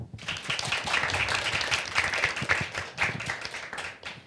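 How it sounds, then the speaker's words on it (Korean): Audience clapping opens a civic education talk show, a fairly close, steady patter of many hands lasting several seconds before fading. "한번 박수로 시작해 볼까요?"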